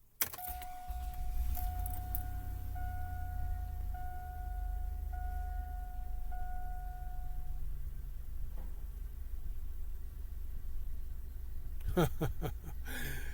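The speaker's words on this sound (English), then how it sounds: "let's start the truck. It starts up fine, but it just doesn't hold the idle." A 2002 Chevrolet Suburban truck that has trouble holding its idle cranks over and settles into a low, steady idle hum, preceded by a chiming warning tone and jangling keys near the start, with a small clatter near the end.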